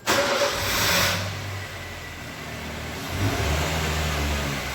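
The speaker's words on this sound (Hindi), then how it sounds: "मैं चलकर गाड़ी स्टार्ट करता हूँ" A car engine starts with a crank and catches, revving briefly before settling into a steady idle, loud and close, with no voices over it.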